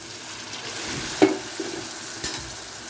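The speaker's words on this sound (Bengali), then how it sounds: "লঙ্কার গুঁড়ি দিয়ে ভালো করে মশলাগুলোকে কষিয়ে নেব" Spices and chili powder being sautéed in a pan for a potato, okra and chickpea dish, a steady soft sizzle broken by a couple of sharp spatula scrapes and clinks.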